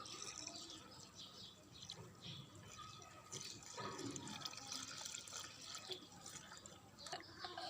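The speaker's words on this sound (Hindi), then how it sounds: "अब हम इसमें दूध डालेंगे।" Milk is poured into a crushed sardai mix, giving a soft, faint trickle and splash of liquid that runs quietly throughout, heard close.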